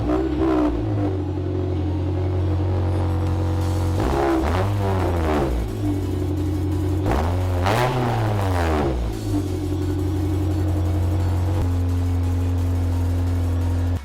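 A 1.7-liter Honda Civic with a MagnaFlow muffler and 4-inch exhaust tip idles, then revs twice in quick rising-and-falling sweeps before settling back to a steady, bassy idle hum.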